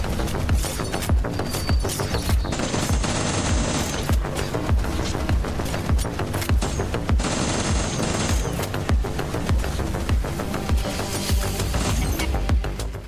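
Relentless automatic weapon fire from the tower defense shooter game Last Line rattles on without pause, dense and loud throughout, mixed with heavier impacts and game effects and no talking.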